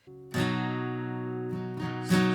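Strummed guitar chords ring out in sustained, full harmonies, with a couple of fresh strums near the end; close and steady, no voices.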